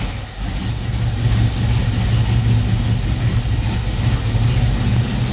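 A 1983 Buick Regal G-body engine runs at a steady idle after a fuel pump replacement, a close, continuous low rumble with a slight dip right at the start and no voices.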